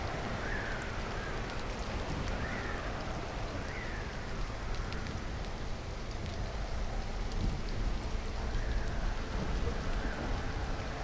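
Steady rain falls at night in the video game Stranded: Alien Dawn, a dense, even patter of drops with faint distant rumbles underneath, continuous throughout and without voices.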